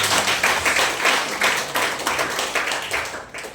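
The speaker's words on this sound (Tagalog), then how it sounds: "Pumalakpak po." Church congregation clapping along in a rhythmic, even beat, a full-room burst of hand claps repeating about every third of a second for several seconds, loud and close with no talking over it.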